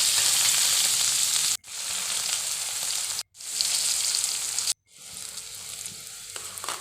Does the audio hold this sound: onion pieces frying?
yes